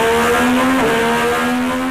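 Triumph 765cc three-cylinder motorcycle engine fitted with an Arrow exhaust, a steady loud drone holding near one pitch with a brief dip and rise in revs, heard alone without talk.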